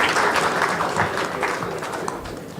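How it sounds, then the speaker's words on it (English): An audience at a felicitation function applauds the dignitaries and guests on stage, a thick, continuous patter of many hands clapping that holds steady, easing slightly toward the end, with no speech over it. "I give you a round of applause."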